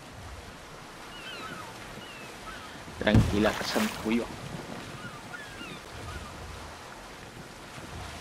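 Ocean waves wash steadily in Assassin's Creed Odyssey, a soft continuous surf under wind, with a short burst of spoken voice midway.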